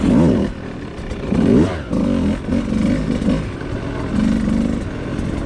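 A 2020 Beta 200 RR two-stroke dirt bike engine revs on a trail, rising and falling in several loud bursts close by, with rattly mechanical clatter between pulls.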